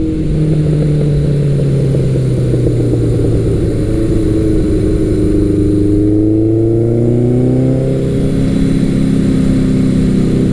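A Kawasaki Eliminator 900 or Suzuki GS1100L motorcycle engine accelerates loudly and continuously, its drone rising in pitch through successive revs, heard up close with no talk.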